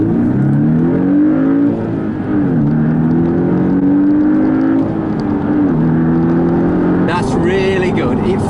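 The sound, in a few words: Porsche 718 Boxster accelerating in Sport Plus mode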